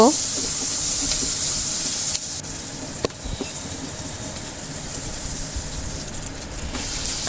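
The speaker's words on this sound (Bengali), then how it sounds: "আমি বাকি তেলের মধ্যে পেঁয়াজ কুচিগুলা দিয়ে দেব।" Chopped onions drop into leftover hot oil in a pan and start frying, a steady bright hiss and sizzle with a few sharp clinks and knocks along the way, while a voice speaks faintly in the background.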